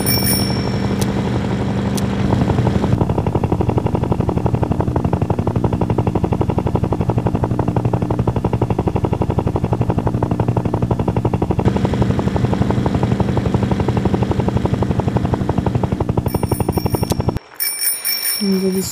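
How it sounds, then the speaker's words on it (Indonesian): A helicopter in a shape-shifting video game gives a loud, steady buzzing whir that runs for the whole stretch and cuts off near the end, with faint game chimes around it. "terus helikopter lagi, ada helikopter kuning dan hijau."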